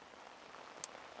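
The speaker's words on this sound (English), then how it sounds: "It's very distracting with this rain." Rain falling steadily around a BMW E38 740i, a soft, even hiss with a single brief brighter droplet tick near the end.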